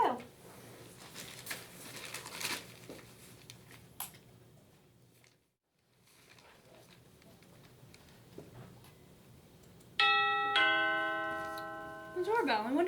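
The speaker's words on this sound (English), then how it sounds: "The doorbell. I wonder who that could be." A doorbell chimes in a home, a run of several sustained ringing tones near the end after a stretch of quiet household sounds and soft ticking, followed by a voice speaking.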